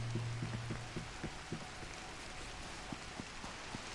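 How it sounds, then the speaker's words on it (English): Rain falls steadily, with scattered distinct drops tapping nearby over a constant soft hiss. A brief low tone sounds at the start. "It is raining."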